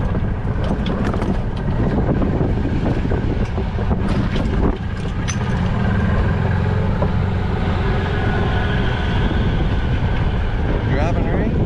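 A golf cart driving along in the open, a loud steady rumble of motor and rushing wind buffeting the microphone throughout, with muffled voices beneath the noise.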